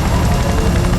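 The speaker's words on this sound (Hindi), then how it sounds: "वो हेलीकॉप्टर हमारे सिर के ऊपर मंडरा रहा है" Helicopter rotor thumping, loud and continuous, as the aircraft hovers directly overhead in an action film scene; no one speaks.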